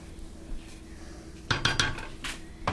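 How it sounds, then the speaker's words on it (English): Metal utensils clink against a pot on a stovetop while making broccoli cheese soup, a few sharp clatters and scrapes close by after a quiet start, with no talking. "I'm going to grab a spoon."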